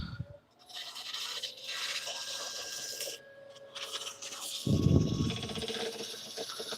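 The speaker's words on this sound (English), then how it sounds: "We're going to use that sandpaper to thin it down." Sandpaper rubs against spinning wood on a lathe, a close, uneven hissing scrape that comes in bursts with brief pauses, ending in a louder, rougher patch.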